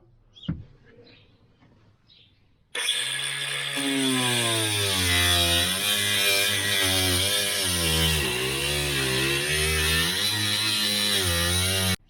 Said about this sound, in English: We're going to take the grinder right along these edges.